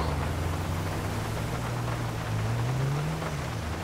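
Rain falls in the video game GTA5, a steady hiss of downpour with a low engine drone rising and falling underneath, no speech.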